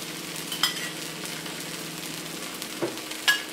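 Rava dosa batter frying in oil on a hot pan, giving a steady soft sizzle with a few brief louder crackles, close and alone without talk.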